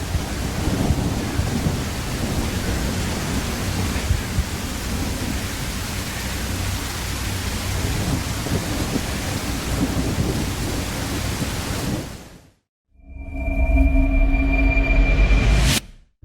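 Acid rain pours heavily in a video game trailer, a dense, loud hiss with deep rolls of thunder underneath. The storm cuts briefly to near silence, then returns in a strong, rumbling surge with a rising tone.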